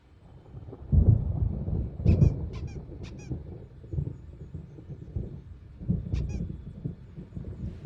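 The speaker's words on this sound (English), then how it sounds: "There's a storm coming. Oh, what a storm." Rumbling thunder rolls through a stormy night scene in the video game Alan Wake Remastered, with low swells of storm noise and a few short high squeaks or creaks over the top.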